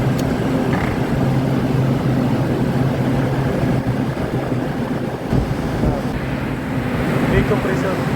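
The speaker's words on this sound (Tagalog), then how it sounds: "Big compressor." The large compressor of a 25-ton Midea air conditioner runs with a steady, close, loud hum and low drone, and people talk over it.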